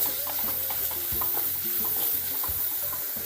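Kerala-style cashew nut curry masala sautéed in a pan, with a continuous soft frying sizzle and repeated scraping, clattering stirs of the spoon, close and without speech.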